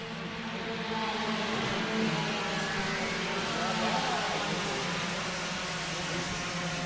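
Touring race cars in a Brazilian championship heat brake hard into a tunnel corner, a dense, continuous engine roar from many cars at once with steady mid-distance intensity, under a commentator's voice.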